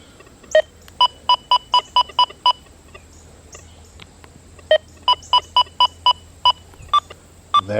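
Two bursts of short, evenly spaced iron-tone beeps from a Deus 2 metal detector, about seven each, separated by a pause, with a few stray beeps after.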